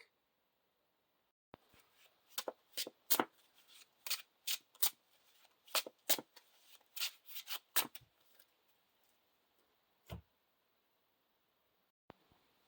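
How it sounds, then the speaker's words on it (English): Playing cards for a fantasy card game are shuffled into a deck, giving a run of crisp, rapid riffling snaps in close bursts, followed by a few isolated taps in an otherwise quiet room. "shuffle these 2 cards into the deck"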